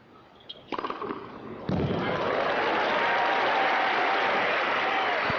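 A tennis crowd at the New Haven 2000 final breaks into applause after an ace, starting with a few scattered claps and swelling into loud, sustained clapping that carries on to the end.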